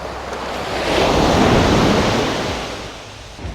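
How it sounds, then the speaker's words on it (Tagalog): Strong waves surge onto a beach during rough seas at a beach campsite, a single loud wash swelling to a roaring peak mid-clip and then receding, with wind mixed in and no talking. "Lakas ng alon."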